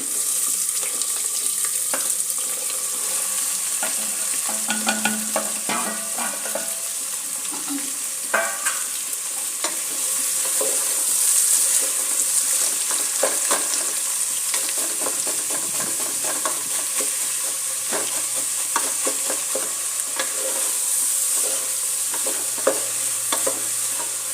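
Chopped onions fry in hot oil for a moong sprout palya, a continuous sizzle with a spoon stirring and scraping the pan in scattered clicks and knocks, steady and close with no talk.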